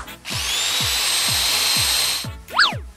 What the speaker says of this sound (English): you're drilling a hole through it?